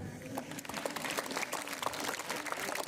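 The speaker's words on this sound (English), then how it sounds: "You can clap for me" Brief applause at a school investiture ceremony, a steady patter of many hands clapping in a hall, fairly faint and continuous for a few seconds.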